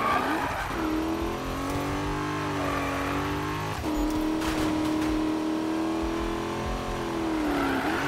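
A 1000-horsepower American car races in Need for Speed (2015) on Xbox One, its engine droning loud and steady and rising and falling in pitch as it revs, with tire squeal throughout and no voices.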